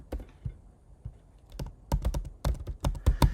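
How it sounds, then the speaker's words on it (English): Password being typed on a computer keyboard: a run of sharp, close key clicks, sparse at first, then faster and denser toward the end, with no talking. "I'm going to type in my password."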